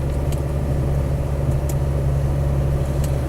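A Land Rover Defender 90 pickup with a 300TDi diesel engine runs at a steady idle, a loud, constant low rumble throughout with a few faint clicks on top, no talk.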